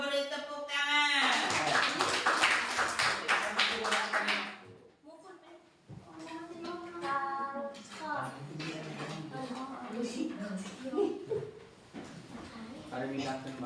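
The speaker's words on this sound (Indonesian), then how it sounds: "beri tepuk tangan buat Asriani" Children in a classroom clap for a classmate who volunteered to come to the front, with a burst of quick, scattered claps over the first few seconds, then a pause before an adult voice talks over quieter room sounds.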